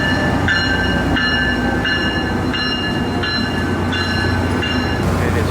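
A Tri-Rail commuter train rolls along on a rainy day, with a steady low rumble filling the whole stretch, periodic clanks, and faint high tonal whines pulsing from the running gear, all continuous and close without any talking.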